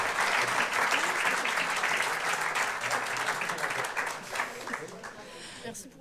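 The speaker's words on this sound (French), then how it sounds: "On peut les applaudir bien fort." Audience applause at a general assembly round table on volunteering, a dense, steady wash of many hands clapping that fills the whole stretch and thins slightly near the end.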